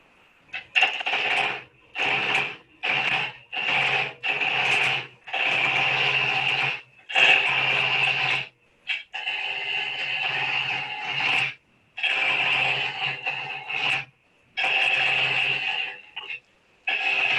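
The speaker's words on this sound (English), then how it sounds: "I really do like this American Beauty lathe." An American Beauty wood lathe roughs a piece of wood between centers into a cylinder, with loud bursts of cutting and scraping that start and stop repeatedly in short runs, close and without talk.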